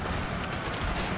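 Musket gunners volleying in a Total War battle set in the Thirty Years' War, a dense, rumbling burst of overlapping gunfire with no pause.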